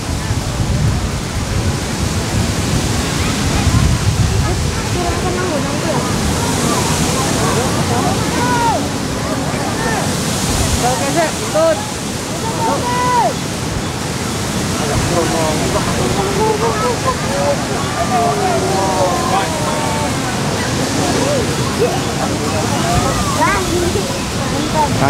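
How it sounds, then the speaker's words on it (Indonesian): Strong, steady wind roaring and buffeting outdoors where giant dragon kites are flown, a constant broadband rush with people talking underneath. "Anginnya kencang, teman-teman."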